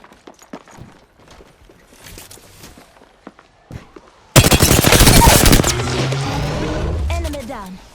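Apex Legends gunfire: sparse distant shots and footsteps, then a sudden loud burst of rapid automatic fire that gives way to a ringing, fading rumble, with a voice speaking partway through.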